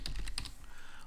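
A few quick, light keystrokes clack on a computer keyboard up close, a brief cluster of taps followed by quiet room tone.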